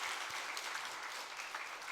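A church congregation claps in praise to God during a Korean worship service, making a brief, dense and steady wash of applause that sounds somewhat distant and has no voices over it.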